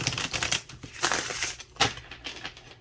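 A close riffle of playing cards being shuffled, rapid crisp flutters in several quick bursts with short pauses between.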